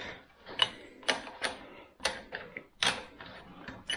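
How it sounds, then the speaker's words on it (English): Spanner tightening the pedals on a Fiido T1 utility e-bike, heard as a series of close, faint metallic clicks and ratcheting ticks in uneven bursts with short quiet gaps between them. "we'll just get the spanner and nip those up"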